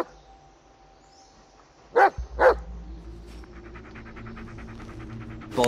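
A dog in the Blair Witch video game gives two sharp close barks, then settles into steady rhythmic panting with faint whimpering over a low ambient hum.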